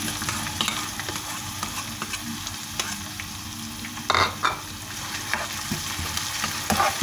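Peppers fry in hot oil in a pan, giving a constant close crackling sizzle, broken by a few sharper bursts as the food is stirred.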